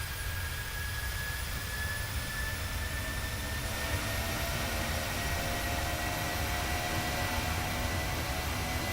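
Steady, broad roar of airliner jet engines from another player's PMDG 737-800 spooling for takeoff in Microsoft Flight Simulator, a constant wash with a thin high whine, continuous and unbroken throughout.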